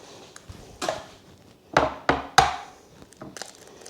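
Egg cracked open for a pumpkin pie batter, a few sharp close taps and cracks in quick succession, followed by faint shell handling, no talking.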